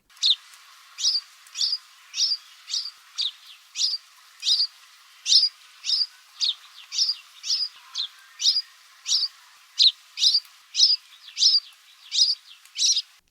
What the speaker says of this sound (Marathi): ही आहे आपली चिवताई